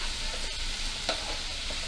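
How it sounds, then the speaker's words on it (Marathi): Onion frying in a seasoned tempering with a pinch of salt, a dense, continuous close sizzle with a couple of faint stir scrapes, steady and unbroken. "तसं हे 2 मिनटं कांदा जरा लाल होईपर्यंत"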